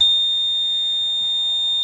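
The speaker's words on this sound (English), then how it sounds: "and that should set off the alarm too" A basement water system alarm buzzer, set off by a bilge pump float, gives one continuous high-pitched electronic tone, loud and steady throughout with no break or voices.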